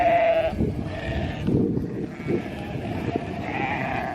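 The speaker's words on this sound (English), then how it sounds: "300 sheep take a lot of time to rotate" A large flock of about 300 sheep bleats excitedly on a grazing pasture during rotational grazing. Many overlapping calls rise and fall continuously at close to middle distance.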